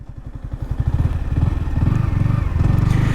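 A Yamaha R15 V4 sport motorcycle idles and putters loudly at close range while making a slow U-turn, its engine pulsing in a steady low throb that grows slightly fuller as it turns.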